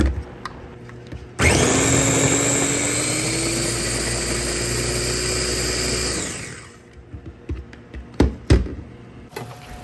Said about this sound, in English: I just used the chopper to make it blended onion.